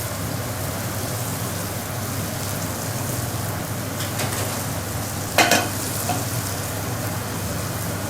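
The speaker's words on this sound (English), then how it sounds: "whilst I'm doing the stir frying." Mushrooms and tofu stir-frying in hot oil give a steady, close sizzle that fills the whole stretch, with a brief utensil clatter about two thirds through and no talking.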